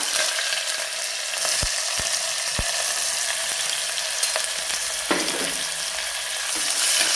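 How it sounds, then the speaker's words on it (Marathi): Finely chopped onion fries with fenugreek seeds and a pinch of asafoetida for sambar, giving a steady close sizzle with a few sharp spoon taps against the pan and occasional stirring scrapes. "कांदा छान परतून घेऊयात आपण"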